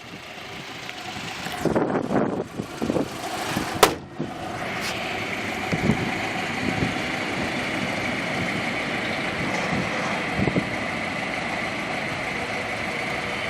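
A front-wheel-drive Volkswagen Bora engine starts with a brief burst, then settles into a steady, even idle that holds close and constant throughout.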